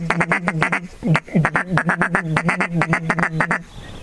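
A hand-blown duck call mimics the feeding chuckle of ducks: a fast, steady run of short, throaty clucks rolling on for about four seconds with only a brief break, loud and close, with no voices.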